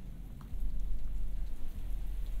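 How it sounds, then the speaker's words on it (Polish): Steady autumn rain falls continuously in the horror video game Lust from Beyond, a dense, even hiss of drops on surfaces with no voices. "Piękny jesienny deszczyk sobie pada."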